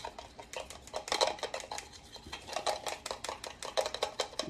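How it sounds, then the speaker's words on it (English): Polysorbate 80 being stirred into a bath bomb mixture in a bowl, a steady run of quick scraping and clinking strokes repeating close by with no talk. "Now, let's give this a stir."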